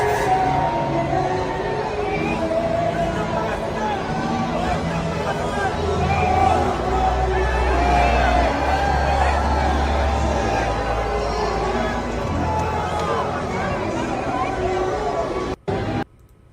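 A crowd at a racetrack pit lane gives a warm welcome during a visit to the McLaren team before a race, a steady dense hubbub of many voices and cheers, loud and close throughout.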